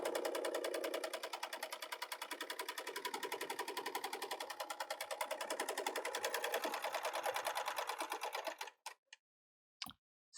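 A Bernina L890 serger gathers a fabric strip, running in a fast, even stream of stitching pulses for about eight seconds before stopping, followed by a few short clicks.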